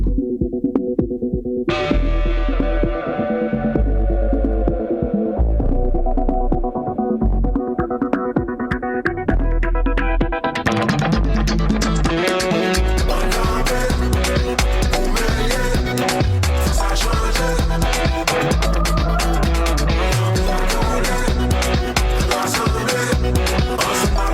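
A song plays over the radio, opening sparse before the full band kicks in around the middle. It stays loud and dense with no talking.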